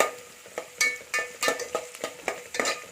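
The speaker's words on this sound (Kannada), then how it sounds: "ಉಳ್ಳಾಗಡ್ಡಿ ಬೆಂದ್ಕೊಳ್ಬೇಕು, ಅಲ್ಲಿವರೆಗೂ ಫ್ರೈ ಮಾಡಬೇಕು" Chopped onions fry in a pan with a soft hiss, while a spoon scrapes and stirs them in repeated brisk strokes, each one loud and close.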